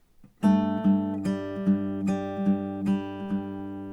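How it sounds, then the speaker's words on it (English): Acoustic guitar playing the ending of a song, a picked bass-and-open-string pattern with ringing sustained notes, about eight evenly spaced plucks at moderate volume with nobody speaking. "And then just the ending, which sounds like this."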